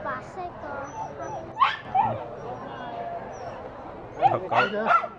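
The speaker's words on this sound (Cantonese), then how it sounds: "嗱，呢啲咪狗仔。" Small puppies at a stall in the Lubao morning market in Sanshui, Foshan, give sharp yips and whimpering barks in short bursts, one early and a cluster near the end, among people talking nearby.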